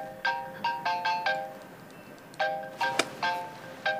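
A mobile phone ringtone plays a bright repeating melodic chime in short bursts, a cluster of four notes then a pause and several more, moderately loud and heard alone without speech.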